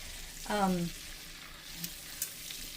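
Food sizzles in a pan as it melts for carnivore candy, a quiet steady crackle with one short tonal scrape and a couple of faint clicks.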